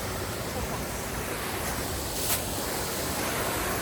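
Steady broadband rush of a waterfall heard from its upper part on a forest hike, a constant loud wash of flowing water with no pauses.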